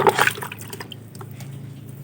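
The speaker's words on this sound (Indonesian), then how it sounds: "Kita siram guyur sampai full basah." Water pours onto the soil of a potted Philodendron Paraiso Verde in a brief gush at first, then settles into soft dripping and gurgling, close and fairly quiet.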